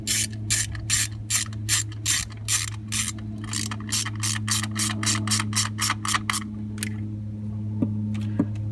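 Rapid ratchet clicking in repeated bursts as bolts are tightened on a Cutlass Supreme 307 engine during a tune-up, close and crisp over a steady low hum, slowing and fading toward the end.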